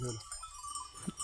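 Sheep bleating among goats at a livestock sale: a short nasal bleat sounds near the end over a steady background hiss, with an earlier bleat-like cry at the very start.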